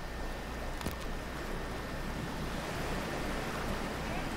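Ocean water in the game Cyberpunk 2077 wooshes steadily as a character wades in for a dive, with a constant wind-like wash and one brief sharp splash early on.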